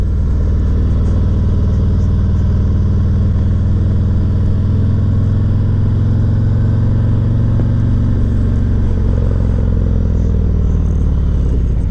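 A touring or cruiser motorcycle ridden by a motor officer, engine loud and close as the throttle rolls on, a steady droning rumble that swells in pitch as it accelerates with constant wind noise.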